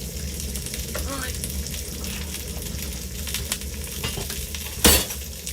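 Salmon fries in a pan with a steady broadband sizzle running throughout, close and even, with a few faint utensil clinks and one sharp louder scrape or clatter near the end.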